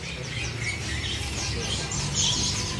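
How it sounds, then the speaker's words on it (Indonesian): A male cucak kinoi calls among other birds at a bird kiosk in a market, with squawks and chirps against steady shop noise; the calls overlap in a busy, fairly loud background. "Ini ada cucak kinoi jantan ya pemirsa."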